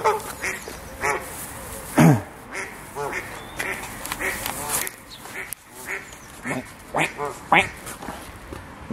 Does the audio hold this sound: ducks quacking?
yes